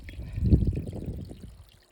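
Water pours slowly through a gold-prospecting sluice, making a soft, close trickle that swells and then fades out.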